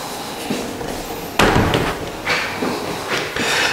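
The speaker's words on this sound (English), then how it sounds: "Let's see if these doors open a little better." Closet doors in a pre-existing home are opened, giving a sharp clack and a few softer knocks and sliding thumps close by, with no talking.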